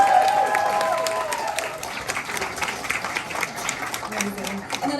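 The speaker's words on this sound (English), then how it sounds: "Can we give a round of applause to Jen being the lead of this film?" An audience at a filmmakers panel in NYC breaks into applause, a dense crackle of many hands clapping that starts loud and eases off slightly while staying steady, with a voice speaking over it at the start.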